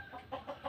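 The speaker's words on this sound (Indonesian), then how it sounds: "Ada ayam." A chicken clucks a few soft, quick notes in a short burst, fairly faint against low background noise.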